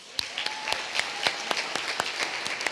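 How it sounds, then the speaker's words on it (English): Applause for graduating seniors at a school senior celebration, a steady crowd clapping with sharp individual claps standing out, fairly near and continuous throughout. "So now we just want to give a round of applause for all of our seniors and all of their awards and accomplishments."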